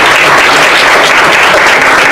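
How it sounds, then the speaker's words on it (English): Dense, steady applause from a conference audience at a criminal justice breakout session, a broad wash of many hands clapping continuously at full loudness with no voices. "Can we get a hand clap for Cindy"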